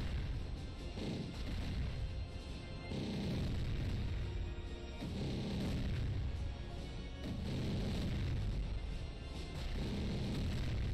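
Heavy booming blasts from bombs in Castle Crashers roll in a dense, repeated barrage, several loud explosions swelling in waves across the whole stretch.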